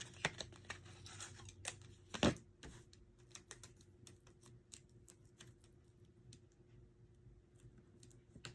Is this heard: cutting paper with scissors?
yes